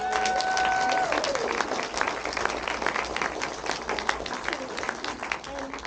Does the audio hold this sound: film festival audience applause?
yes